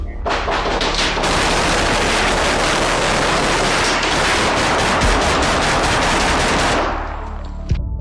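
Relentless rapid gunfire during a police standoff, a loud dense burst of shots lasting several seconds before cutting off into quiet with a final sharp report.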